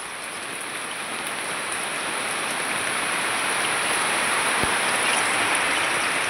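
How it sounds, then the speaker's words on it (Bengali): Heavy rain pours steadily, a dense, even hiss of falling water that builds slightly louder over a few seconds, with no voices. "একটু দেখাই কি বৃষ্টি পড়ছে দেখুন, প্রচুর বৃষ্টি হচ্ছে।"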